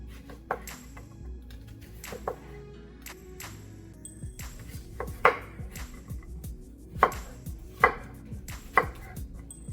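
A knife chops onions on a cutting board for biryani, irregular close knocks and sharper thuds spread over several seconds, with no talking.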